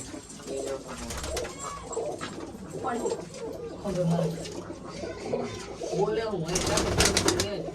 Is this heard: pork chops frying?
no